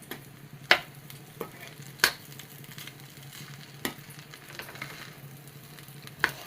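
Rice and pineapple rice being mixed in a pan, soft continuous rustling with several sharp spoon clinks against the pan spaced a second or two apart, fairly quiet.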